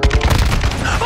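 Loud explosive blasts and booming gunfire in Call of Duty Modern Warfare 2 multiplayer, a quick run of heavy thumps filling the short moment up close.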